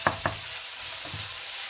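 Vegetables for vegetable noodles frying with cumin and coriander powder, a constant close hiss with a few soft knocks of a stirring spoon against the pan.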